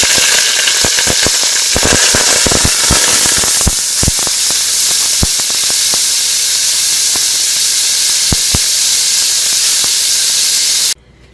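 Vegetable stock poured into hot extra virgin olive oil in a pot sizzles and hisses steadily and loudly, with scattered sharp spattering pops throughout before cutting off abruptly at the end.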